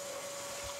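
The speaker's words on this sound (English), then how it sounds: "I can just vacuum off the dust" After CNC cutting, a vacuum cleaner sucks up the dust, giving a brief, steady, close whine with a constant airy hiss underneath.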